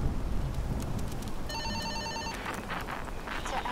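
A telephone rings in the horror video game In Sound Mind: one short burst of bright, steady electronic ringing cuts through a constant bed of rain-like ambient noise.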